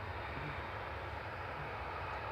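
A Ryanair Boeing 737-800 jet arriving at Manchester Airport, a brief, steady low engine rumble heard faintly at a distance.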